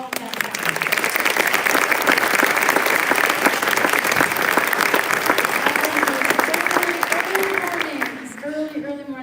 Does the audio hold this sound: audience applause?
yes